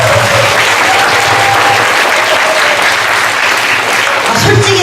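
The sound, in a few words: congregation applauding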